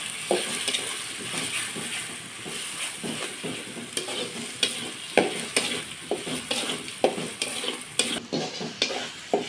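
Onion, garlic and ginger paste fries in a pan, hissing and sizzling close up while a spatula stirs it in repeated scraping strokes throughout.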